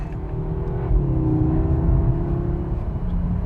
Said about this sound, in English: the S3 does make a decent enough noise, although it is a little bit, I would say, reserved.